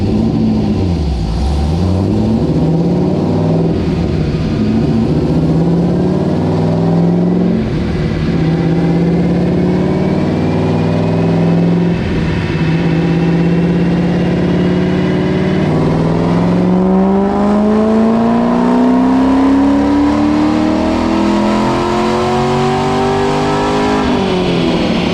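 A homemade-cammed Chevrolet Corvette engine roars on a dyno, loud and continuous, climbing through repeated rev sweeps with rising pitch and a final long pull, with no talking.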